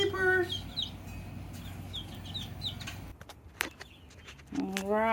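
Baby chicks in a backyard coop peep in quick, high chirps through the first few seconds. A voice speaks at the start and again near the end.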